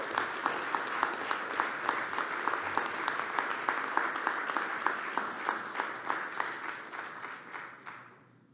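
An audience at the 2022 OOGA annual meeting claps for the Attorney General, a steady round of applause with a few sharp individual claps that fades out at the end.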